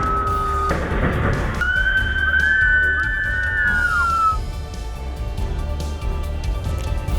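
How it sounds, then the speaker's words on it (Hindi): During a landslide in Kangela village, Chamba district, villagers whistle as an alert: a long rising and falling whistle carries across the open air for a few seconds, mid-distance, over a rushing outdoor background. "गांव वालों को अलर्ट करने की बजाय लोग सीटी बजाने लगे।"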